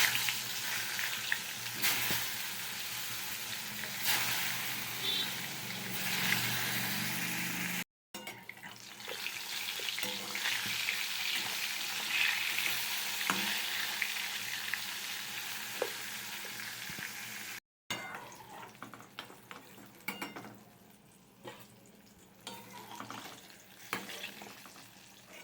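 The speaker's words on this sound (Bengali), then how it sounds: "বেগুনগুলোকে ভেজে নিচ্ছি এক এক করে।" Eggplant slices fry in hot oil with a continuous, fairly loud sizzle and crackle, broken by two brief cuts, with occasional handling clicks and no talking.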